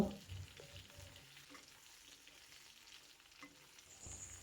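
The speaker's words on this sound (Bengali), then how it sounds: "বেগুনটাকে পেঁয়াজ রসুনের সাথে খুব ভালো করে ভেজে নেব" Eggplant frying with onion and garlic in a pan gives a steady, moderate sizzle with occasional stirring scrapes, heard alone without talk.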